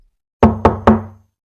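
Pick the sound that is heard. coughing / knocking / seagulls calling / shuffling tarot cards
knocking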